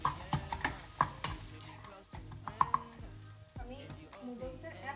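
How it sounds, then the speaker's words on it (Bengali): Egg frying in a pan for noodles, heard as a low sizzle under repeated clattering scrapes and knocks from a spatula stirring in the pan, close and fairly quiet. "ডিমটা আরেকটু ভাজা ভাজা হবে।"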